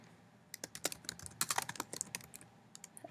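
Quiet typing on a computer keyboard while entering slide text: a quick, irregular run of crisp key clicks, close and alone, clustered densely in the middle and thinning out at the end.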